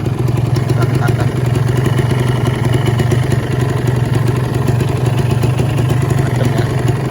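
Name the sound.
Kawasaki Ninja R 2015 two-stroke motorcycle engine idling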